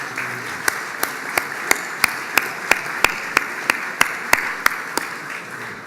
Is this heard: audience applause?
yes